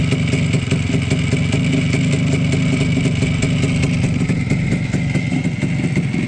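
A 1993 Minsk motorcycle engine runs steadily up close, a loud, even two-stroke putter with rapid rhythmic popping and metallic clatter throughout.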